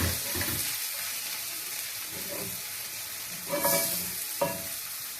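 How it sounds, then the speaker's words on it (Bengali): Pumpkin leaves and bathua greens cook in a pan with a steady soft sizzle, broken by a few stirring scrapes, close and moderately quiet. "ওই দিকে আমার শাক রান্না।"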